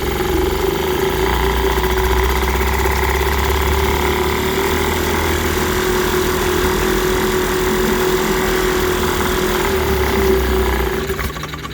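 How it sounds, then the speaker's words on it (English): A 1946 Elgin 1.25 hp outboard motor idles steadily in a water test tank, a loud continuous putter with a low rumble and faint irregular knock, holding for about eleven seconds before it fades. "It'll idle fairly steady at that speed as long as it's not choking on its own fumes."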